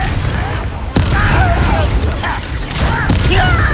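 A Confringo blasting spell goes off in Hogwarts Legacy with sharp, loud explosive cracks, a big one early and another near the end, amid rumbling game effects and chattering sounds.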